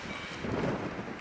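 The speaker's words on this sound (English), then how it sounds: "Sorry, it's really windy up here." Wind buffeting a microphone somewhere high up and exposed outdoors, a steady low rumble that swells briefly midway, with no talk.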